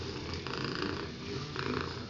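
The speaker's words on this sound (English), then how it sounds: "Can you hear her purring?" A shelter cat up for adoption purrs heavily and steadily up close, with a low rumble that rises and falls in rhythm with her breathing and no other sounds.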